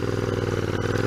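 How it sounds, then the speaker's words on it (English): A 2019 Royal Enfield Interceptor motorcycle under way, its engine note dense and steady with a thin electric whine riding over the exhaust, close and continuous for about a second. "A little bit of an electric whine there"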